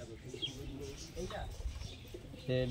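Madras pigeon, a faint soft coo and a few chirps in a quiet room, ending with a louder short call near the end.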